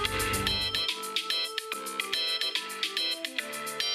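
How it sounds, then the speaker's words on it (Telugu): A mobile phone plays a melodic ringtone for an incoming call, a bright repeating tune of evenly spaced notes that sounds clear and alone. "ఇంట్లో వాళ్ళు ఫోన్ చేస్తున్నారు"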